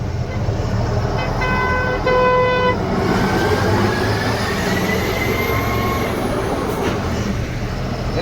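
Indian truck pulling away at night in the rain, a low steady engine rumble with a brief horn-like tone early on and a rising whine, loud and close.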